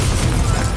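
A Confringo fire-blast explosion in Hogwarts Legacy, a short, deep rumbling boom that fills the moment, loud and close.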